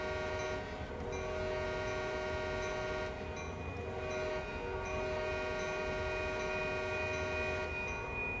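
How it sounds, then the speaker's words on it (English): A train in Train Sim World 2020 on the Oakville Subdivision rolls steadily along the tracks with a rumbling, rattling drone while a long, loud multi-tone horn sounds continuously over it, close and without talk. "Poor houses being so close to train tracks hearing all this racket"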